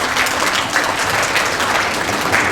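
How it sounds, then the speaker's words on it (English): Audience applause honouring women at a Two-Spirit community gathering, a steady wash of clapping that fills the room evenly throughout, with no voices over it. "So please give another round of applause for all the women."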